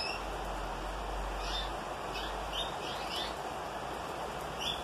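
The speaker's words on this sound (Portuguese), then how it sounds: "Olha os meus canários grossos" Canaries in a home aviary on a rainy day, chirping short bright phrases at a distance over a steady hiss of rain, with no talk.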